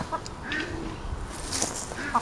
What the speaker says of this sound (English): Is that what you think, Miss Chicken?